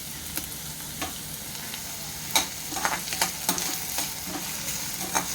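Onions browning in a pan over high gas, with continuous crackling sizzle and sharp spatula knocks and scrapes at irregular intervals, alone without talk.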